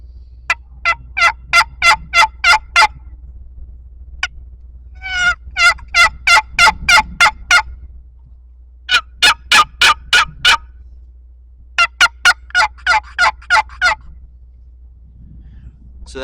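Turkey yelps played on a box call come in quick, evenly spaced runs of about six to eight raspy notes, loud and close, with short silent gaps between the series and no talking.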